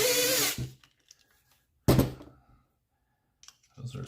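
Short bursts from a power drill driving tight screws while assembling a Tekno ET48 2.0 RC buggy, two loud close whirs with a quiet gap between, and a voice speaking near the start and end.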